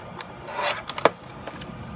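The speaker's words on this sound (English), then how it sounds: "I am going to cut 3 by 4 inch pieces" Paper being cut into 3 by 4 inch card pieces for a handmade card set, heard as short rasping, rubbing strokes with one sharper snip near the middle, close and fairly quiet, with no talking.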